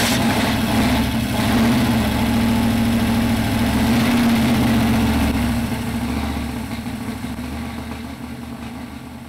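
A small block Z28 Camaro engine with a new cam and heads idles steadily and loudly up close. The rumble is slightly lumpy and eases a little toward the end, and no one talks.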